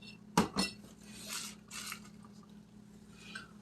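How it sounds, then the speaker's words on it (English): A spoon stirs simple syrup of boiled water and sugar in a pot: two quick, close clinks, then soft scraping and swishing at low volume. "I stir it up so it's nice and clear"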